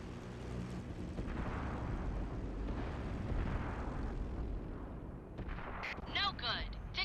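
A tank cannon fires in World of Tanks, with a deep booming blast and rumbling roar filling most of the clip, followed by fainter crackles and a voice near the end.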